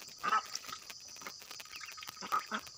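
Ducks foraging for food outdoors, with a few short quacking calls rising over a low background hum; the calls come in brief bursts near the start and again toward the end, moderately close.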